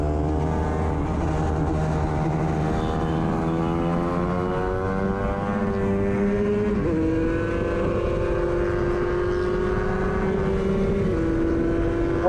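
Small-displacement 250/300/Moto3 racing motorcycles on a track, engines screaming continuously at high revs with rising pitch through the gears and a sharp shift drop, two bikes running side by side close to the mic.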